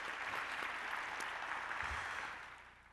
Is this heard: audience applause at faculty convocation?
yes